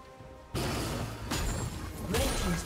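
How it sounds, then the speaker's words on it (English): A turret is destroyed in League of Legends: a sudden heavy crash and rumbling collapse kicks in abruptly, followed by further booming impacts, loud and close. "Red team's turret has been destroyed."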